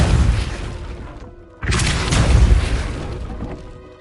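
Depulso spell cast in Hogwarts Legacy: a loud, close booming burst that fades, a brief silent gap, then a second heavy blast that slowly decays.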